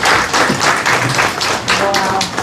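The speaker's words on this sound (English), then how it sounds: "So please give yourself a round of applause" An audience at a talk session bursts into applause, with dense, lively clapping in several rising and falling waves, close and loud, with a voice speaking over it.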